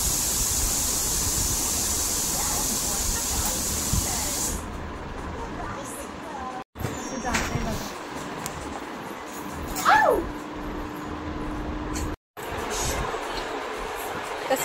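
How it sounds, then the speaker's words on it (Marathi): Water runs from a tap into a container in a home kitchen, a strong steady hiss for several seconds that then cuts off, followed by quieter household sounds and a brief voice. "आता चला पटकन पाणी बिणी भरून घेते."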